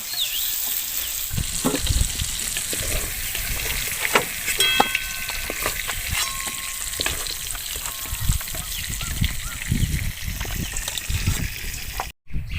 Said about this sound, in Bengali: আমগুলো এখানে আমি হালকা একটু ভেজে নিয়েছি